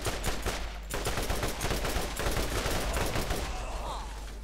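Dense, sustained automatic gunfire in Borderlands as bandits are shot down, rapid loud bursts packed tightly together with heavy low rumble throughout.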